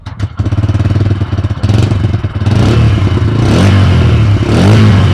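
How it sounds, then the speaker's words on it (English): A Bajaj Freedom 125 CNG motorcycle engine revs repeatedly close by, its exhaust rising and falling in throaty bursts before holding a loud, sustained roar. "here's a quick exhaust check as well."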